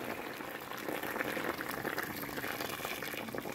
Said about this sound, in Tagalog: Lagyan ko siya ng mainit na tubig para madali ang paglambot niya.